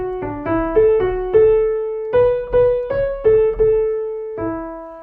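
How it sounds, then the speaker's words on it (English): A melodic line moves stepwise through the Gregorian chant Alleluia for the Feast of Dedication, each note struck cleanly in a short sequence of sustained, bright tones, close and alone. "the music starts off with the Gregorian chant for the Alleluia of the Feast of Dedication"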